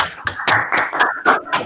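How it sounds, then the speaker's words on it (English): A few people clapping into their microphones after an online mathematics seminar talk, sparse uneven claps in quick succession, close and dry, with a brief bit of speech mixed in. "So that's the first clap."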